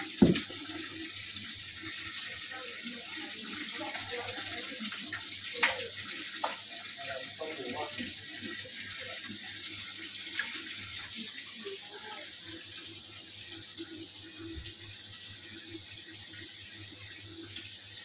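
Water runs steadily as the level of a fish tank holding a large red fish is lowered. The flow is a constant, moderately faint rush, with a few small knocks and splashes early on.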